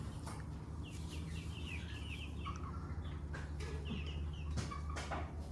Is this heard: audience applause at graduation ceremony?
no